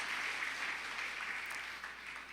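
A congregation claps for its parish priest, a continuous wash of many hands, fairly soft and steady, tapering slightly toward the end.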